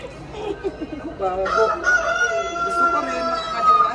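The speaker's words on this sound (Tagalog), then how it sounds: "Manok ni Kano Guwapo." A rooster crows loudly and close by, its drawn-out call rising and holding, with clucking and murmured voices in the background.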